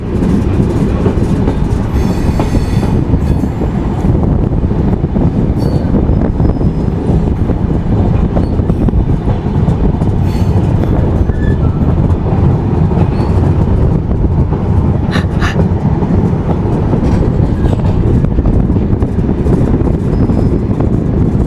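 The Ruposhi Bangla Express passenger train rumbles steadily along the rails arriving at Narail, with continuous loud clatter of wheels and occasional brief metallic squeals.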